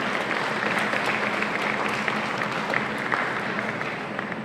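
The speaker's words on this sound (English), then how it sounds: "So please help me to give a round of applause to our 4 new affiliates." An audience at a championship event gives a steady round of applause, a dense, even wash of clapping lasting several seconds at moderate volume.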